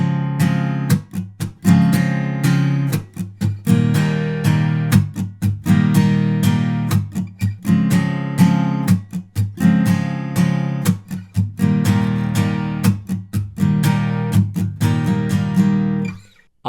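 Acoustic guitar strumming a chorus, full chords in a steady rhythm with short muted gaps between phrases, close and loud with no voices.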